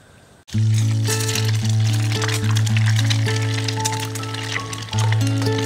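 Eggs frying for breakfast, a steady loud sizzle and crackle of fat in a hot pan that starts abruptly and carries on continuously, with a faint low hum underneath.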